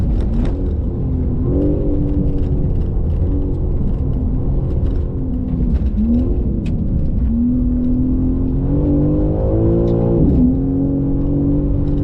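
A 2025 BMW M4 CS lapping a race track, its engine rising and falling in pitch through repeated acceleration and gear changes, a continuous strong whine and drone heard from inside the car.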